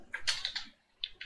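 Someone presses keys on a computer keyboard during a Maya 3D modelling session, giving a quick cluster of crisp, close key clicks followed by a pause and two more separate taps.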